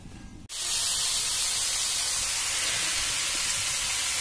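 Water pours steadily over raw prawns and fish as they are rinsed clean, a loud continuous rushing splash that starts abruptly after a brief muffled moment and runs on alone.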